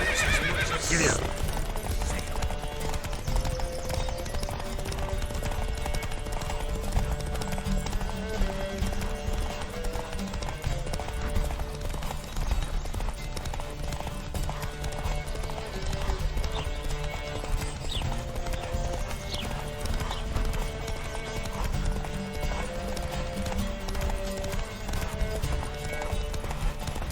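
A horse gallops hard in The Witcher 3 horse race, its rapid, continuous hoofbeats pounding steadily for nearly half a minute with a whinny early on, over game music and with people talking.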